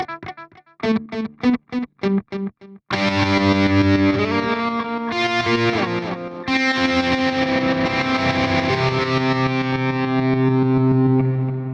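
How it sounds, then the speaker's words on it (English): A distorted electric guitar runs through a Line 6 POD Express delay effect. A burst of quick staccato plucks is followed by long sustained chords and bends with audible repeats trailing behind. There is no talk. "Delay."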